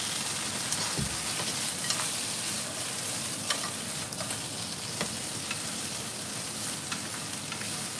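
Boiled lobster pieces gently frying in a pan for a light sear, a steady close sizzle with occasional crackles and soft stirring scrapes throughout, no voices.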